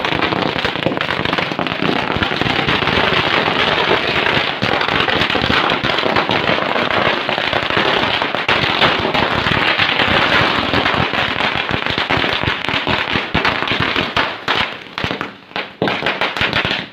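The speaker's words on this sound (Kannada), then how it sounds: "ಪಟಾಕಿ ಹೊಡಿಯನ್ರಪ್ಪ ಅಲ್ಲಿ" Firecrackers burst at a village celebration after a gram panchayat president's election, a loud, dense, unbroken crackle of rapid pops that thins and sputters near the end.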